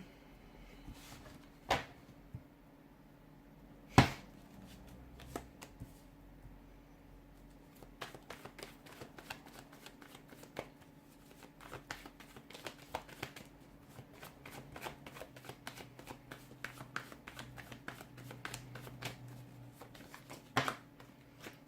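A deck of tarot cards being shuffled by hand, soft riffling and shuffling with a few sharper taps and clicks, fairly quiet and close, without talk.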